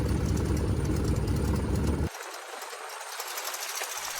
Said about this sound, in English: Well, this run-up engine's running strong.